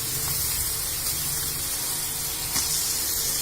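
Fried soya chaap pieces dropped into a cooked masala paste, setting off a loud, steady, close sizzle with faint stirring clatter.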